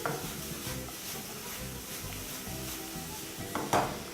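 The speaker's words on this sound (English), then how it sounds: "Up next, you're going to add your mangoes. And again, proceed to mix everything together." Mangoes stirred into fruit caramelizing with sugar in a pan, a soft continuous sizzle under a rhythmic series of stirring scrapes, close and fairly quiet, with a slightly louder knock near the end.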